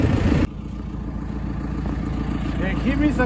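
A tractor's engine runs with a steady low rumble as it is driven out, close by, while people talk over it.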